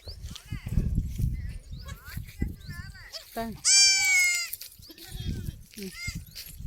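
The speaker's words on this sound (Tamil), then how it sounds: "குட்டி பக்கத்துலேயே ஆடு வருது" A mother goat and her newborn kid out in the countryside bleat in several clear, wavering calls near the listener, with one long loud bleat in the middle, mixed with people talking and rustling.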